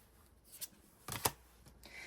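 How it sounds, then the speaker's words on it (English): Tarot cards being shuffled by hand, a few soft riffling bursts with a sharper flutter near the middle, quiet and close with no talking. "maybe I didn't shuffle so great"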